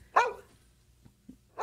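A dog barks indoors in an Ilocano comedy scene, with two sharp barks at the start and end and a soft yip between them, moderately close against a quiet background.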